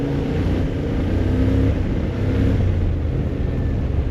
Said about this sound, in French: J'adore le bruit de ce bicylindre.